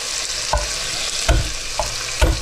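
Garlic cloves and smoked bacon fry in a pan in a steady, close sizzle, broken by four stirring scrapes at roughly even intervals.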